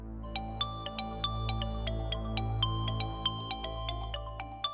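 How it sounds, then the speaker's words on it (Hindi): A phone plays a melodic ringtone of bright, repeating chime notes over a steady low hum. It rings on alone for nearly five seconds at a moderate level. "Please pick up the call."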